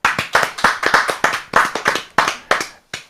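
Bare hands clap in an uneven, brisk series of about fifteen sharp, close claps in a studio, loud and alone without talk, with a short pause near the end.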